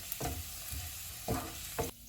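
Chopped garlic sizzles steadily in hot oil in a pan, with a few louder scraping stirs punctuating the continuous frying hiss.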